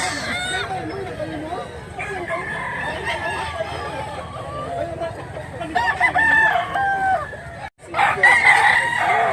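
Roosters crowing repeatedly among clucking fowl at a gathering in Mantalungon, Cebu, loud and close, with people talking throughout and several overlapping crows near the end.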